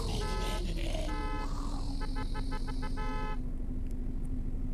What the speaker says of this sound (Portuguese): Vou dar uma buzinada aqui pra ver se chama mais deles.